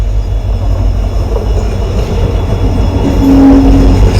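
A container freight train passing close by, with a loud continuous low rumble of wheels on rails and a brief squeal of metal near the end.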